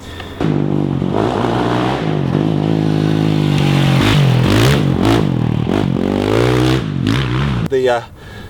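A motorcycle engine revs loudly and close, rising and falling in pitch in a continuous drone for several seconds before cutting off abruptly near the end.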